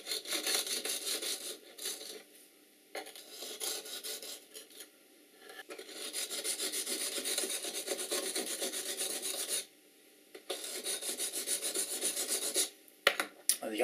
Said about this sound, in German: So, jetzt habe ich oben geschliffen, jetzt schleife ich von hinten nochmal.